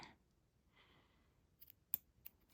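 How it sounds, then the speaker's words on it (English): Scissors snip through elastic stretch-bracelet cord, a few faint brushing sounds followed by one sharp close cut and a smaller click, quiet and without talk. "Then I'm going to take these scissors."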